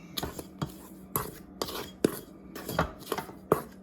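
Carrot coco bread dough ingredients being mixed in a bowl, a series of sharp knocks and scrapes of a utensil against the bowl in an irregular rhythm, close and distinct, with no voices.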